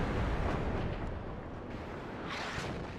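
Rocket artillery barrage from a Buratino launcher in the RTS video game WARNO, a dense, continuous rumbling roar of explosions and fire filling the scene throughout.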